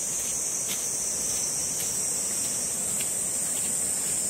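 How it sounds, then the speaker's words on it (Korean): Cicadas drone in a steady, high, unbroken chorus beside a rushing mountain stream on a gorge trail at Juwangsan, Cheongsong, the water adding a soft constant wash underneath for several seconds, no voices. "매미 소리도 울고"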